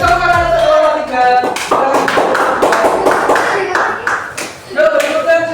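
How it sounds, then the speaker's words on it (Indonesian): A classroom of students claps for a group after a teaching exercise, with irregular hand claps running throughout and voices talking over them. "Beri tepuk tangan untuk kelompok 3"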